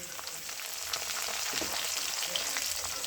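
Small potato pieces sauté in a pan for upma, an even, close, steady hiss of frying oil with faint stirring scrapes.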